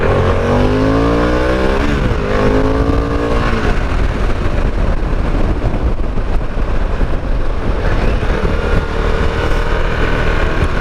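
A Harley-Davidson Pan America adventure motorcycle rides along a dirt road, its engine droning loud and close with pitch rising under acceleration, mixed with wind rush and gravel noise, with no talking.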